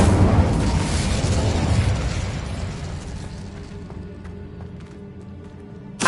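An Incendio fire spell blasts in Hogwarts Legacy, a loud roaring whoosh and burst that swells at once, then fades slowly over several seconds before a sudden sharp pop at the very end.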